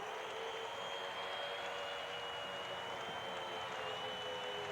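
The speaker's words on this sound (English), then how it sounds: "now listen to the crowd" Basketball arena crowd roaring after a turnover, a steady, dense wall of cheering and applause sustained throughout at moderate distance, with no clear voices standing out.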